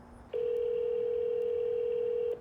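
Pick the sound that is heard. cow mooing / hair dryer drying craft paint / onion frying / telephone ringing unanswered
telephone ringing unanswered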